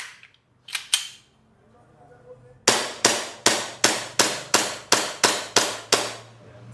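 An airsoft Glock Combat Master pistol gives a couple of slide clacks, then about ten sharp, evenly spaced metallic snaps of the hammer dropping, close and crisp.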